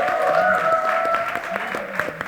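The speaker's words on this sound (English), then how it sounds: "A huge round of applause for them." Crowd applause at a film trailer launch event in India, brief steady clapping under a tonal musical backdrop, moderately loud and continuous.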